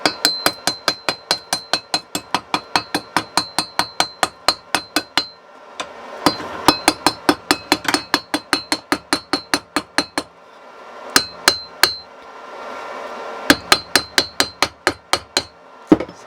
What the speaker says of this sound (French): maintenant je vais piquer le laitier pour vous montrer ce que ça donne